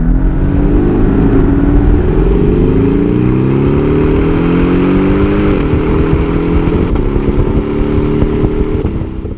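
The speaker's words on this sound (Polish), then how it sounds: "czy dźwięk wydawany przez nowego Boxstera jest aż tak zły?" Porsche 718 Boxster S with a turbocharged four-cylinder boxer engine, loud and close, droning steadily as the revs climb in smooth stepped rises through several gear changes.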